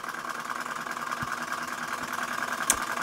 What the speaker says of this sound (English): the Bing 100-year-old hot air engine